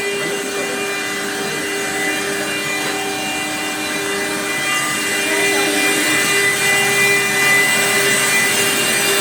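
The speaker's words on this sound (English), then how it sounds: "Here's the CNC machines working away." CNC machines carve fluorite crystal blanks in a Donghai, China workshop, a loud, steady grinding whine with sustained tonal hum and a gradual rise in intensity, continuous and close with no speech.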